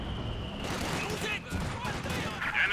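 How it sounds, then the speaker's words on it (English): Katyusha rocket barrage in the strategy game Company of Heroes 2, a dense rolling volley of blasts and whooshes that swells and dips over about three seconds, with a louder burst near the end. "Big Katyusha barrage into the smoke"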